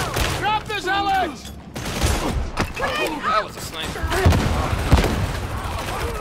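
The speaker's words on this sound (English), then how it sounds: "That was a sniper." Sniper shots and gunfire from Warhammer 40K: Darktide come in sharp cracks and clattering bursts amid busy game effects, while players talk over the action throughout.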